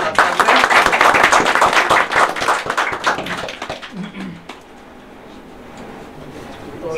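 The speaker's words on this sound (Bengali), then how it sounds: "তো একটা জোরে হাততালি হয়ে যাক অমর্ত্যদা।" An audience at an indoor marine life class breaks into loud, dense clapping that thins out and fades after about four seconds, leaving quiet room noise.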